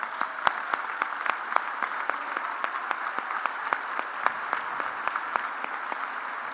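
Audience at a children's hospital in San Andrés Cholula stands and applauds health workers of a home-visit health program, steady dense clapping filling the room with a few sharper close claps standing out, no talk.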